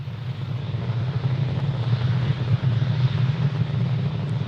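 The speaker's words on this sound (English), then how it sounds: "Falcon 9 has cleared its tower, and we're currently throttling down in preparation for max Q" A SpaceX Falcon 9 rocket climbs in flight as a steady, dense low roar with constant loudness throughout, heard without voices.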